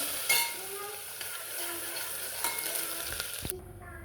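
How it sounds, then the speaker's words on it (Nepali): Garlic frying with cumin in a pan and being stirred, a steady close sizzle with scraping strokes of the spoon and a sharp clink near the end. "लसुन, अब यसलाई एकछिन चलाउँछु।"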